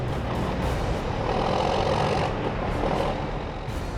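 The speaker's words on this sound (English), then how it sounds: "Start bumping the throttle up to make the winch pull harder." A tow truck's engine drones and rises as the throttle is bumped to make the winch pull harder on an icy highway, a loud continuous rumble with no talking.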